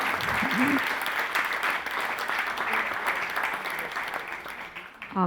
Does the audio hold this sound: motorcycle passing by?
no